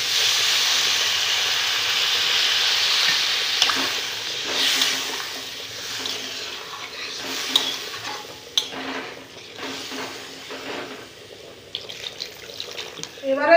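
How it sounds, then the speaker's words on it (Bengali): Water pours into a pan of sizzling spiced vegetable paneer curry, setting off a strong hiss that gradually fades into softer bubbling and occasional stirring clatter. "এবারে আমি দিয়ে দিব জল"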